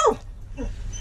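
Outdoors beside an RV, a dog gives a short, close whimper or yip while being fed leftover rice, with a second fainter whine after a brief pause.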